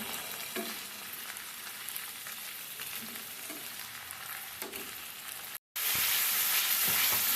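Garlic paste sizzles in hot oil in a pan, a steady dense crackling hiss with occasional stirring scrapes, briefly cut off and then returning louder and brighter.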